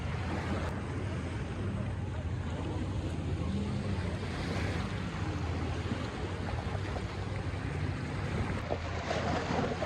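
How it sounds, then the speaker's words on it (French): Waves washing onto a beach at La Capte in Hyères, a continuous broadband rush mixed with wind buffeting the microphone, heard steadily with no talking. "Là, je suis dans une plage."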